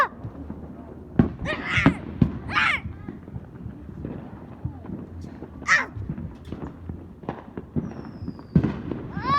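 Loud fireworks explode outdoors in a series of sharp, irregular bangs and crackling bursts, some close and booming, separated by brief quieter gaps, with faint voices in the background.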